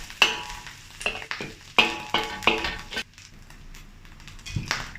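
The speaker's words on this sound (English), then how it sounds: "Then add the garlic and continue saute until aromatic." Garlic sautés in a wok for a Chinese-style cabbage stir-fry, with short bursts of sizzling and spatula scraping in uneven strokes, a few sharper clatters among them, and quieter gaps between.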